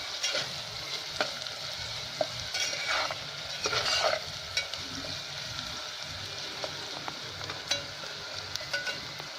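Onions sizzle steadily in a hot pan for okra curry, with a continuous frying hiss broken by repeated scraping stirs and occasional light clinks of the spoon against the pan, close and moderately loud, with no talking.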